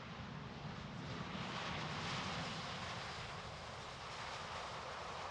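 Airbus A350 airliner landing at the Farnborough air show, a faint, distant, steady jet roar and rushing air that carries on without a break, with no voices.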